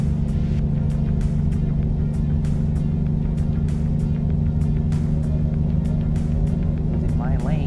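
A car in American Truck Simulator drives along with a constant, droning engine hum and road rumble, punctuated by a regular series of faint clicks running throughout.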